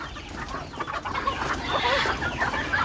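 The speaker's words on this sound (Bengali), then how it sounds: "এই যে দেখেন সোহন ভাই মুরগি ছাড়লো," Several free-range native chickens cluck close by, a busy mix of clucks and squawks that grows a bit livelier toward the end.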